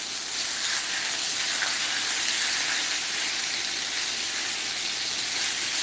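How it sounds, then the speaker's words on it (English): Beef cheek meat sears in olive oil in a pan, a loud, steady hissing sizzle that holds without a break throughout, with no voices. "I'm gonna go back into the pan with a little bit more olive oil, okay? And I'm gonna get searing on the rest of this meat."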